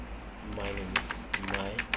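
Fingers type on a computer keyboard while writing a file in the nano text editor. A handful of soft, irregular key clicks sound over a quiet voice talking in the background.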